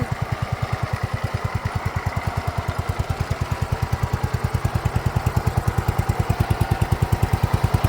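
An abandoned 1969 John Deere 112 lawn tractor engine runs near at a steady idle, a loud, even, rapid low-pitched chugging pulse with no throttle change and no talk.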